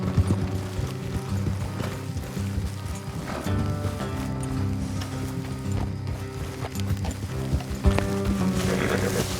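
Horses trotting in Red Dead Redemption 2, a steady clip-clop of hooves with faint tack rattle, close and continuous over a low ambient game score, with no voices.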